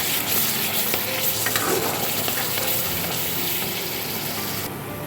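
Spice paste frying loudly in a pan for a fish curry (doi pona) as water from rinsing the mixer jar is poured in, giving a steady dense sizzle with stirring scrapes throughout, no talking.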